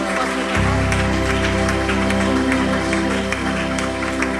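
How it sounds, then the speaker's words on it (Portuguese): Church congregation applauding during worship, sustained clapping over a steady musical drone and chord that enters just after the start, continuing evenly to the end. "pode aplaudir ao Rei"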